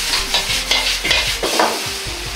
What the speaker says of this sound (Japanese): しっかり炒め合わせます